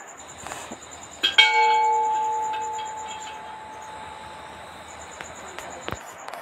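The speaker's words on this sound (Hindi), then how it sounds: "ये देखिए घंटा पकड़ के टंगा गया था और बजा दिया।" Temple bell at a Hanuman temple struck once with a bright clang, then ringing on in a long, slowly fading metallic tone, with a few faint clicks and knocks around it.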